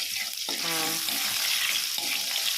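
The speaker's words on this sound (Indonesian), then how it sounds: "goreng sampai wangi" Chopped onion sizzles in a pan over a low flame, a steady close frying hiss filling the background throughout, with brief tonal clinks from a utensil over it.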